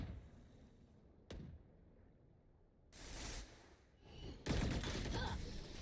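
Gunfire in the competitive shooter Valorant: a sharp lone shot, then bursts of rapid shots that grow louder toward the end, with quiet gaps between them and no talking.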